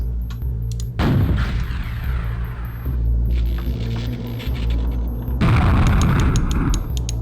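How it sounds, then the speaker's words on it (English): Homing rockets exploding in a video game: several heavy booming blasts with rumbling low end, spread across the clip, with louder bursts near the start, middle and end, and no talk. "Rockets act as homing missiles which flare when they miss."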